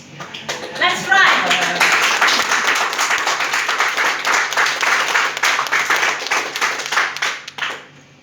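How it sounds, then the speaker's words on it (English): An audience bursts into loud applause, dense clapping that rises quickly, holds steady for several seconds and then tapers off, with a voice briefly heard at the start. "don't you feel so good when you hear this thunderous applause?"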